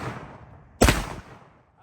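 A single sharp shotgun blast from a TS 12 shotgun firing a slug, loud and close, with a brief decaying tail; no talking.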